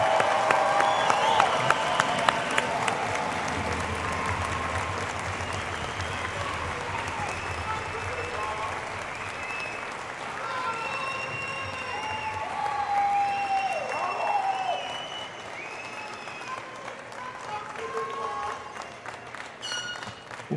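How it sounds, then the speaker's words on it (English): Graduates at a Missouri S&T bachelor's degree ceremony receive a sustained round of crowd applause, dense clapping filling a large hall with a few cheers, while a voice and some chatter carry over it. "How about one more round of applause for our wonderful graduates?"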